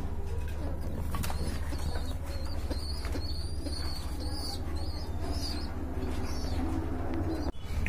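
A pair of pigeons for sale coos softly amid steady low background rumble and faint bird chatter, with occasional wing rustles and no speech.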